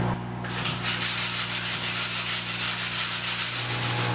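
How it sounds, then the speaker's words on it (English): Steady, loud abrasive sanding, a continuous rhythmic rasp of a power sander grinding against a surface, running without pause and with no voices. "Okay, all done sanding."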